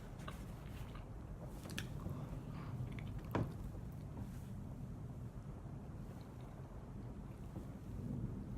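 Steady low rumbling wind noise from a big storm, a continuous muffled roar with a few faint clicks and one brief thump, fairly quiet and without speech.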